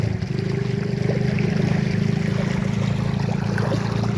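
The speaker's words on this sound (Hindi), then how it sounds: "बहुत स्पीड में पानी जा रहा है।" Steady rushing water with a continuous low roar, close by and unbroken, a fast current pouring through a village canal channel near a bridge.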